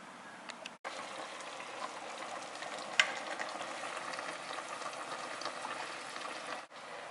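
Pots of chicken adobo bubble on a stovetop, a steady close hiss of boiling broth with a faint clink near the three-second mark and a brief dip at the start.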